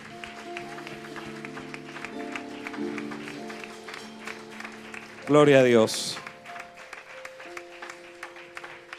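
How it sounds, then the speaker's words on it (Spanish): A church congregation breaks into applause of praise, a dense burst of clapping lasting under a second amid music and a voice speaking over it. "¿Cuánto le dan un aplauso a la presencia de Dios? Un aplauso de alabanza."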